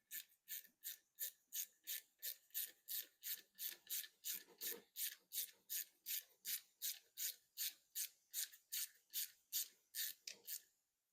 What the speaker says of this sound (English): I'm just going to start this with my ratchet.